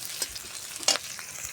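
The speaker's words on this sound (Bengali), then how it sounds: "ওই তেলে আমি পেঁয়াজগুলো হালকা করে ভেজে নিব।" Onions lightly frying in oil left over from frying cauliflower and potatoes, a faint, steady sizzle with a few sharper crackles and spoon scrapes.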